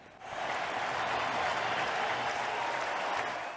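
A Twin Cities baseball crowd at the All-Star game cheers and applauds former Twin Justin Morneau, a steady, dense roar of clapping that swells in after a brief moment and holds loud throughout.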